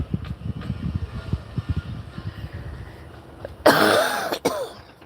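Soft low murmuring and breaths give way to a sudden loud, harsh burst of coughing from a person with a persistent cough, close to the microphone, then a brief final hack.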